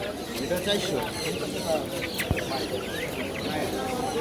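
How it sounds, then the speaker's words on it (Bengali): Chickens cluck and squawk continuously close by at a large weekly animal and bird market in Mirpur, Dhaka, with people talking in the background over the busy noise. "মুরগি"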